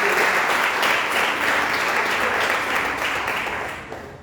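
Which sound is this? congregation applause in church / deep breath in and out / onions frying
congregation applause in church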